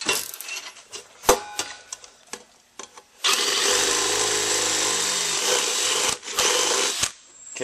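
Scattered metallic clanks and taps, then an electric drill whirs loudly and steadily for about three seconds, enlarging a hole in a metal can, before stopping, with a few more knocks after.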